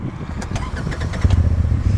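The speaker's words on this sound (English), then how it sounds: "let me start it up first. That way you can hear it run." A 2016 Polaris RZR 1000 Turbo side-by-side engine cranks and catches, its low rumble building into a steady idle up close, with some clatter near the start.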